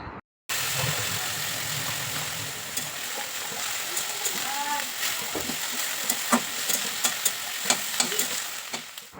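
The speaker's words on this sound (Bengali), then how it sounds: "এখন আমি ধনিয়া পাতাগুলোকে ভেজে নিব" Coriander leaves frying in oil in a wok give a steady hiss with scattered stirring scrapes and a run of spatula taps toward the end, beneath a low rumble in the background.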